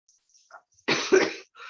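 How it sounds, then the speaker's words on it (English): A single dry cough, close and fairly loud, lasting about half a second and breaking into two bursts, with quiet breathing sounds before and after it. "yes, I have a dry cough"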